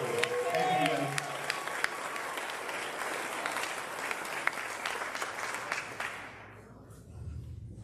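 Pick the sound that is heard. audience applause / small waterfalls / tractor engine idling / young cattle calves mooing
audience applause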